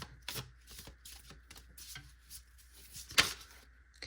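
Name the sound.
tarot oracle cards being shuffled and drawn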